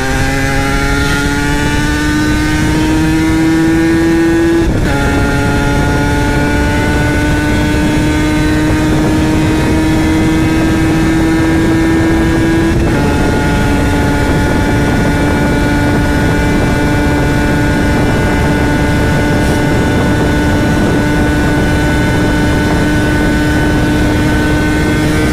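A Yamaha TZM two-stroke motorcycle engine held at high revs, a loud steady whine with strong harmonics that climbs slightly and dips briefly twice, running close and continuous with no talking.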